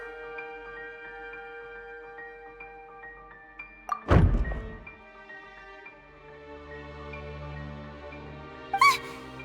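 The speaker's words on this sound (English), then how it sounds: "I seem to have accidentally knocked over a decoration." A decoration knocked over in Genshin Impact gives a single heavy thud that stands out from the soft background music, followed a few seconds later by a brief sharp clatter.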